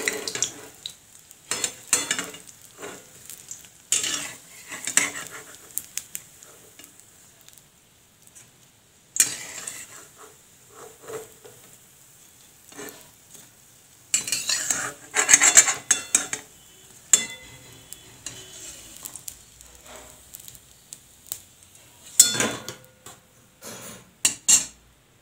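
Food frying in a pan at home and being stirred: irregular bursts of spoon scraping and clinking against the pan, with a light sizzle between, close and alone.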